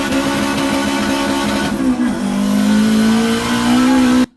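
A 500 bhp all-wheel-drive Honda Civic EG with a K20 engine screams loudly to about 9,000 RPM, drops pitch briefly at the shift from second to third gear, then climbs again before cutting off abruptly.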